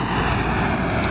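A propeller airplane in the World War 3 video game roars overhead, a loud continuous engine drone filling the short moment with no voices.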